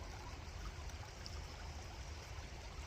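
Steady broadband rush of the Vedder River stream near Chilliwack flowing continuously, a close, even wash of water with low rumble and no voices.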